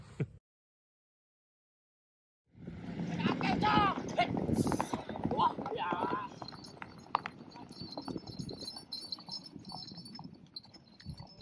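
Hooves clip-clop on hard ground amid a busy outdoor scene at Mount Bromo volcano in East Java, with people talking over the steady clatter after a brief silence.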